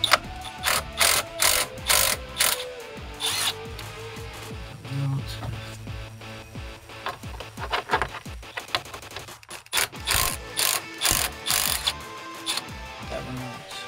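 Ratchet works 8mm radiator fan bolts loose on a Jeep Wrangler JK, giving close, crisp bursts of rapid clicking in a quick repeating rhythm, with occasional metallic clinks and no talking.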